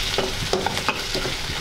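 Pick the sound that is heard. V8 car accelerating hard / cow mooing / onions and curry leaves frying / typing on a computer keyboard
onions and curry leaves frying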